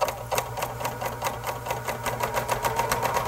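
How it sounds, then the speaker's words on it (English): A serger runs close and steady over a seam in knit fabric, its rapid mechanical clatter pulsing evenly under a low motor hum. "we'll do a little serging on it to see what it looks like"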